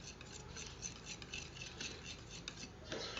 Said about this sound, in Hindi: ऐसे ही आपने इसको मिक्स करना है चम्मच से ताकि ये क्रीमी फॉर्म में आ जाए।